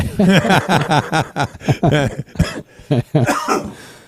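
A person coughs repeatedly in a rapid, harsh series of loud, close bursts, with brief pauses between clusters.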